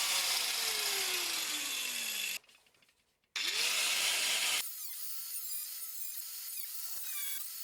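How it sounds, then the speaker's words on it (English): An old, rusty fuel filler bracket is cut off with a power tool, giving a loud, harsh grinding that drops out briefly, returns, then eases into a quieter, steadier whine toward the end. "Now I'm cutting the old bracket off."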